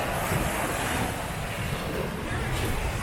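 Waves and wind at Hawaii Beach in Sihanoukville, Cambodia: a continuous broadband rush of surf with gusty wind buffeting the microphone, steady and fairly loud throughout.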